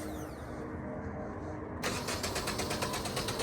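Infiniti G20 with a swapped SR20 engine runs quietly, then abruptly rises into a louder, rhythmic pulsing engine note as throttle is applied, close by and without talk.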